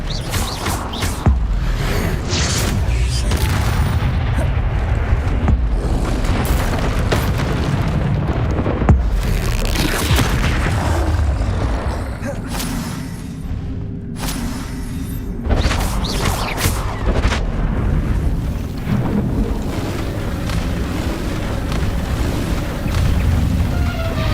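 Spell blasts and explosions in the video game Hogwarts Legacy, loud booming bursts and rumbling impacts piling up densely one after another in a continuous roar of game combat.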